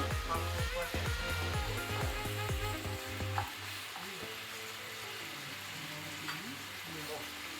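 Mutton frying in an uncovered pan for rogan josh, a continuous close sizzle with spoon stirs and knocks early on, settling into a steadier fry with an occasional clink.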